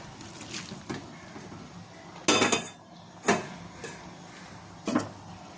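Boiled jackfruit seeds and pumpkin greens go into a pan for a Bengali vegetarian dal, with scattered metallic clinks and scrapes of a utensil against the pan, a few sharper knocks standing out over a low steady background.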